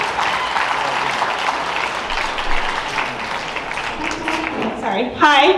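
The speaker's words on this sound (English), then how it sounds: "a big round of applause for McKenna" Wedding reception guests give McKenna a round of applause, a dense, lively wash of clapping with voices mixed in, and a louder burst of talk and cheering near the end.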